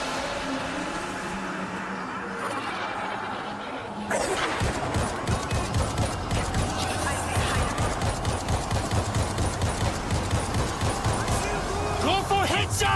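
Video game gunfire, a steady stream of rapid shots that starts abruptly partway through and keeps a fast rattling rhythm over a busy combat backdrop, with voices talking.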